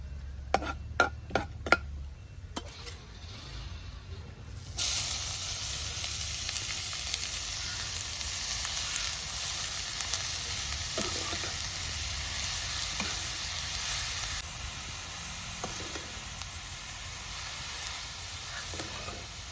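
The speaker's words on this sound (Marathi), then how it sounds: "गाजर चांगलं परतून घ्यायचं आहे" Grated carrot sautés in ghee with sliced almonds, a steady soft sizzle filling the pan after a few sharp clinks and taps at the start, with occasional faint stirring scrapes throughout.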